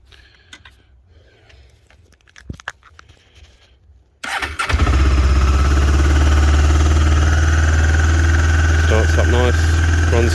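A 2001 Honda CB500S motorcycle starts after a quiet stretch of small handling noises, then settles into a loud, steady, close idle with an even, throbbing rhythm.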